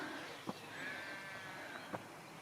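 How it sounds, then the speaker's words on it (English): Two short bleats from sheep, somewhat distant, rise above a steady outdoor background hiss in Snowdonia, spaced about a second and a half apart. "Can you hear the sheep?"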